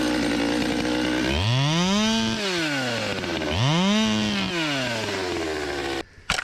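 A Fable 200T chainsaw used for tree work runs loud and close, revving up and down twice in long swelling pulls before cutting off abruptly near the end.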